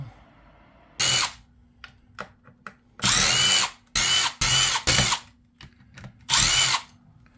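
A power driver sends screws into the rear differential of a Vitavon DBXL-E RC truck in several short bursts of loud whirring, separated by pauses filled with small clicks and handling noises.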